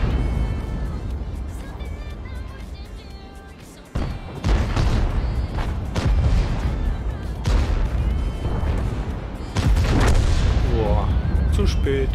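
Several heavy booming tank cannon shots in World of Tanks burst out amid a noisy mix, with a voice talking over the action.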